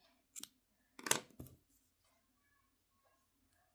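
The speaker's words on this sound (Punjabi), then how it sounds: "ਤੇ ਇੱਕ ਚੇਨ ਬਣਾ ਕੇ ਇਹਨੂੰ ਆਪਾਂ ਕੱਟ ਕਰ ਦਵਾਂਗੇ" Scissors snip crochet yarn in a few quick, close cuts, a short click followed by a louder double snip, in an otherwise quiet room.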